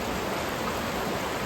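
Creek water rushing over rocks on a hiking trail, a steady, full broadband wash that stays constant and close throughout with no voices.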